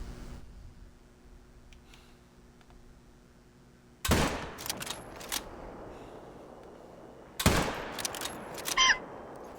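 Two loud, sharp hunting rifle shots in theHunter: Call of the Wild, several seconds apart, each followed by a rolling echo that fades into quiet outdoor ambience.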